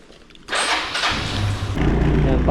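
A motorcycle engine cranks and catches at about half a second, then runs loud and close in a steady idle with a rising low rumble toward the end.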